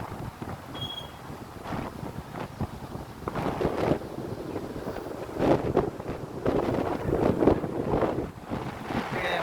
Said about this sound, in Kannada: ಗಾಳಿ ಕೂಡ ಹಾಗೇನೆ ತುಂಬಾನೇ ಚೆನ್ನಾಗಿ ಬರ್ತದೆ ಗಾಳಿ